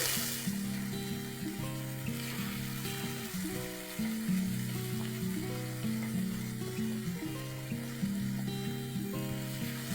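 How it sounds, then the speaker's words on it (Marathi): Ground onion-tomato masala frying in a pan for a soybean and potato curry, a steady close sizzle with soft stirring scrapes and faint background music, no one talking. "आता ना कांदा आणि टोमॅटोचा कच्चेपणा जाईपर्यंत आपल्याला हा मसाला फ्राय करून घ्यावा लागेल।"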